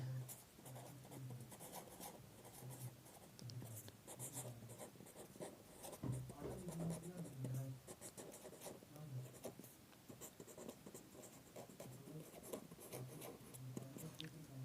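A pen writes on a page, scratching and tapping steadily through a long stretch of quiet, close strokes, with faint low hum beneath and no clear talking.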